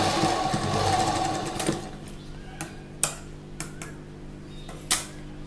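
A sewing machine runs steadily as it stitches the side seam of a slip, then the motor stops, followed by a few separate sharp clicks and knocks of fabric and the machine being handled.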